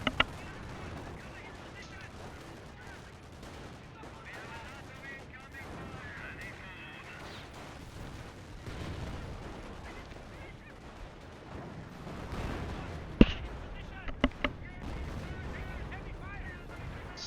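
Machine gun and artillery fire from a war video game crackle at moderate distance, with a few sharp bangs standing out late in the stretch, all under a steady background din.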